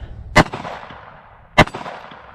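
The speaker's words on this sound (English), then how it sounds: "I'm going to try the little plate first. Looks like I'm shooting over it." A Sig Sauer P365 .380 pistol fires two sharp, loud shots about a second apart at a steel plate, each crack trailing into a short outdoor echo, with no talking.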